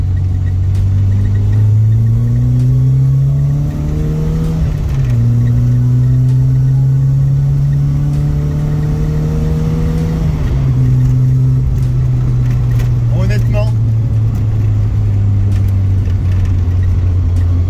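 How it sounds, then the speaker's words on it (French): A Peugeot 205 GTI engine revs up loudly from close by, its pitch climbing in repeated surges with brief drops between them as it shifts through the gears. The drone stays steady and strong, and nobody speaks. "on va quand même vous faire goûter la puissance de la voiture"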